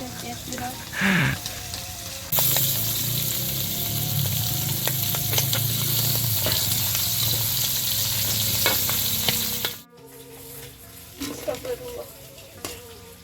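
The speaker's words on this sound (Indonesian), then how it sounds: "setelah menggoreng jengkol, lanjut goreng ikan cuek baraya" Salted fish frying in oil with flour added, a loud continuous sizzle and crackle close up after a small splash as it goes in, then the sound cuts off abruptly while voices talk.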